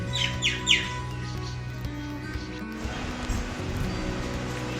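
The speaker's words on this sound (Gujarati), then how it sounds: "કાગડા પણ આવી ગયા છે।" Crows gather outside a home during a morning puja, giving three harsh caws in quick succession, followed by quieter background sounds.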